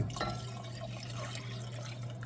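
Liquid poured into a pot of smothered neckbones, a steady splashing, trickling fill heard close up and alone over a low hum.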